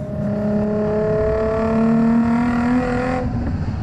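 A Nissan 350Z engine revs in a smooth, rising tone that climbs steadily for about three seconds before cutting off. It sounds loud and close, and no one speaks over it.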